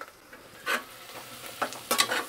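Spiced rice with turmeric, asafoetida, peas and potatoes stirred in a hot pan, several short scraping strokes with light sizzling, quiet and close.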